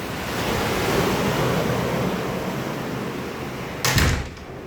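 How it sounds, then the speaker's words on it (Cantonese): Sea waves wash around an over-water villa at Kandima in the Maldives, a broad steady surf roar mixed with wind noise on the microphone, ending with a brief knock near the end. "可以睇到個大海"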